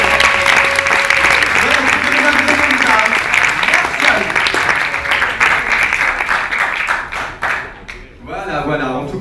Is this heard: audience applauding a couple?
yes